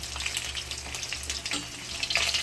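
Fish frying in hot cooking oil in a kawali, a dense close sizzle with crackling pops and small bursts of spatter throughout.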